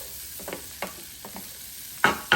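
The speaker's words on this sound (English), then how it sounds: "so the butter's melted, so I'm gonna put my onions in there. And just stir that up, let just saute them just a little." Onions sautéing in melted butter inside a Power XL cooker, a soft steady sizzle broken by several scraping stirs, the last two louder and close.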